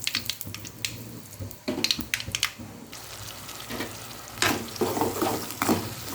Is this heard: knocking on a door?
no